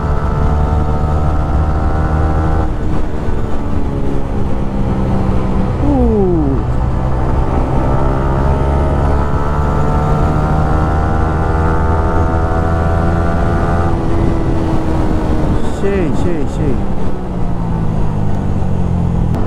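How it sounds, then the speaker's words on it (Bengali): Modified Yamaha R15 V3 motorcycle with an altered exhaust, a loud continuous droning engine note that rises and falls in pitch as the throttle changes, close and steady. "এক্সস্টের সাউন্ডটাই আমার কাছে খুব ভালো লাগতেছে।"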